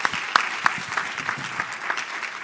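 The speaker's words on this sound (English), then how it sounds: "give another round of applause to Congressman Jim Clyburn" An audience applauding Congressman Jim Clyburn at a speaking event, a thin, fairly faint patter of clapping from a small crowd, with a few sharper claps standing out through the short burst.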